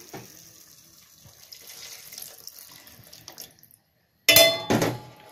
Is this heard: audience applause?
no